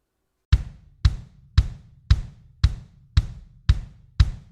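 A metronome at 115 beats per minute gives eight crisp, evenly spaced clicks after a brief pause, each decaying quickly, close and alone.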